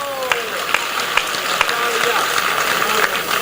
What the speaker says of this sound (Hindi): मेरे स्वागत में दोबारा जोरदार तालियां बजाएं